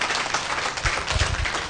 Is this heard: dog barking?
no